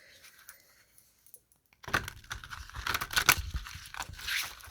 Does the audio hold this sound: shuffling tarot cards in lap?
yes